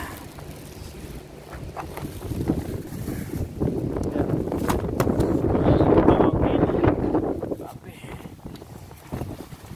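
Wind gusts outdoors during cold-weather cooking over a pan, a steady low rumbling buffet against the microphone that swells in the middle and eases off, with voices faintly present.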